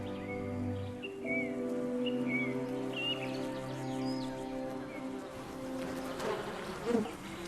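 Bees and flies in high summer, humming and buzzing near and far in a soft, continuous drone, with brief bird calls and a louder passing buzz near the end.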